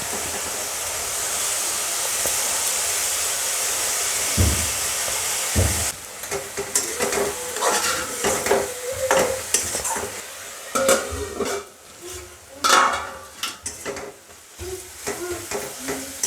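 Khesari greens tipped into a simmering curry in a pan, bringing a burst of sizzling and stirring that continues with scraping and bubbling, moderately loud and close, with no voices.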